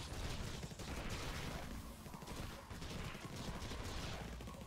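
Dense, continuous gunfire from the video game Infested Planet, a steady loud barrage of rapid shots filling the whole stretch without pause.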